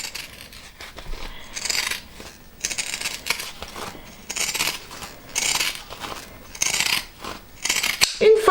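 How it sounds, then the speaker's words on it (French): Pinking shears trim excess fabric around a sewn seam on an upcycled crossbody bag, giving repeated crisp snipping bursts in an uneven rhythm, close and fairly loud with no talking. "je vais prendre mes ciseaux cranteurs et je vais enlever le surplus de tissu tout le tour"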